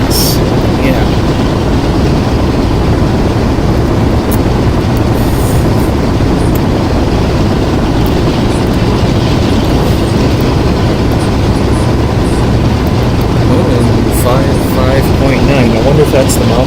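Union Pacific 844 steam locomotive in the Open Rails simulator climbing toward the Cajon Pass summit, a steady dense rumble of train running with wheel and rail noise throughout, with someone talking over it.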